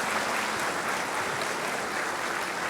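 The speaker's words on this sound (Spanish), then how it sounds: "¿Por qué no le damos caluroso aplauso al Señor?" A church congregation applauds warmly during a service. The even, continuous clapping holds at a moderate level throughout, with no voices over it.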